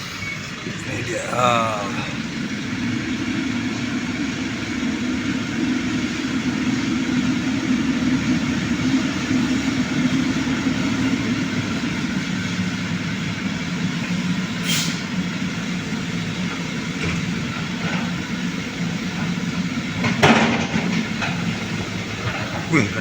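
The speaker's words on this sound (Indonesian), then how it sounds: "Buah pakai ini, pakai mesin capit," Engine of a grabber machine loading oil palm fruit bunches runs as a steady, loud mechanical drone throughout, with a few clanks and hisses and voices talking over it.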